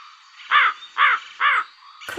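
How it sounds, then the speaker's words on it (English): Three evenly spaced harsh caws from a crow, clear and fairly close against a quiet background, followed by a brief rustling knock at the end. "Crow."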